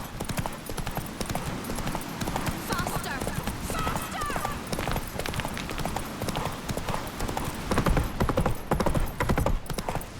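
Horse hooves clip-clopping at a gallop in The Witcher 3: Wild Hunt, a steady rapid beat throughout with a brief whinny, under game dialogue and music.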